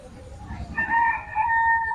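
A rooster crows once, loud and close, among household ducks and chickens, with low clucking and yard noise beneath the call.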